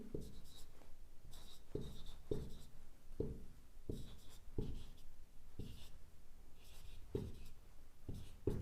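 Chalk or marker strokes on a board during a binary-number maths lesson, a series of short scratchy taps and strokes repeating irregularly at close range under a low room hum.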